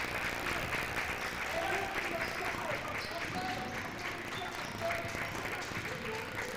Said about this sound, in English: It gets the Hornet bench up, clapping.